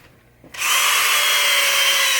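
A cordless drill fitted with a polishing pad starts up after a brief quiet moment and runs at a steady, loud whine, being used to polish and wax a 1973 Williams Travel Time pinball machine.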